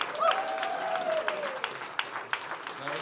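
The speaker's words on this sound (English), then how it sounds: "Let's hear a big applause." Audience applause after a Cincinnati Civic Orchestra holiday concert, a steady wash of clapping with sharper individual claps popping out, and a faint tonal voice or whistle drifting over the crowd.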